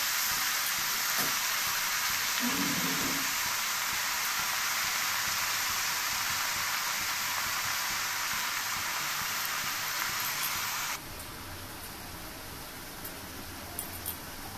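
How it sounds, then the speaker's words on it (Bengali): Radish greens fry in a pan with potatoes, giving a loud, continuous broadband sizzle and hiss of water steaming off, which steps down slightly in level near the end; no one speaks. "শাকটা ঢেলে দিলাম। একেবারে নরম করে ভাজতে হবে অনেকক্ষণ ধরে।"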